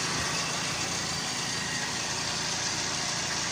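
A car engine idles steadily after a repair, a continuous low hum with faint vibration throughout, fairly quiet and with no voices.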